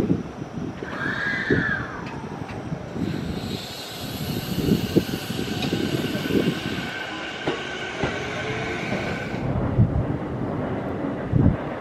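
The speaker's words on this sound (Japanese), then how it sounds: "この電車は網干行きです。" An electric commuter train bound for Aboshi in Japan rumbles along with a rising motor whine near the start, a steady rolling roar and faint clanks, heard from inside.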